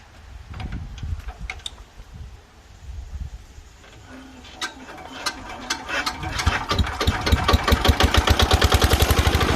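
An old Japanese Yanmar diesel trencher engine cranks, catches and settles into a fast, rhythmic knocking run, growing louder and more regular over the final seconds with faint clanks around it.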